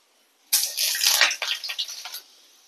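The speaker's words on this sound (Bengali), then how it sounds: "শুকনো লঙ্কা আর 5 ফোড়ন ফোড়নে দিচ্ছি।" Dry red chillies and five-spice tempering hit hot oil with a sudden loud sizzle that bursts in at once, crackles hard, then eases off and stops after under two seconds.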